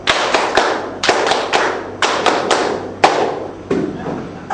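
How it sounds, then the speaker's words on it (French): Participants at the closing of a women administrators' training session in Côte d'Ivoire clap together in honour of the organisers, producing about seven distinct loud unison claps in an irregular rhythm, close and without speech. "On applaudit les organisatrices."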